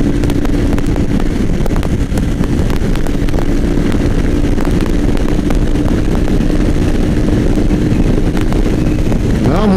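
A Yamaha Fazer 250 ABS motorcycle engine hums steadily while riding, its constant drone close and loud beneath heavy wind buffeting across the microphone.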